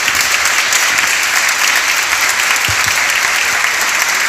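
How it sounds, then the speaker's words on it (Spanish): Sustained audience applause for the authorities of a national secondary school at a book launch, a dense, steady wash of many hands clapping at even loudness throughout, with no speech over it. "lo primero que pido es un aplauso para las autoridades del Colegio Nacional"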